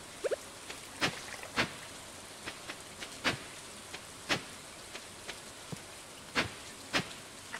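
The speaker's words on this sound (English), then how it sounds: "It's raining" Rain falls in the farming game Artisan Valley as a faint, even patter scattered with sharp, irregular droplet ticks.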